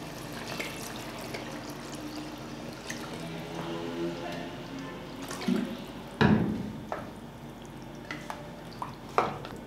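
750 ml of water pours and trickles into a pressure cooker for chicken biryani in a steady low wash, with a few louder splashes and clinks near the end, close by.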